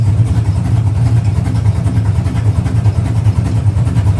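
A Pontiac GTO engine idles steadily, with a low, even, lumpy rumble that holds constant throughout without revving.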